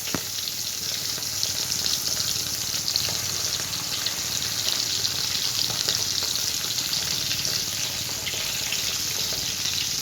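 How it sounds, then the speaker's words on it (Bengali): Fish sizzles and spits steadily in hot oil in a wok on a home kitchen stove, a dense continuous frying hiss that holds at an even level without pause. "এই যে মা এখন মাছটা ছাড়লো কড়াইতে, ভাজবে"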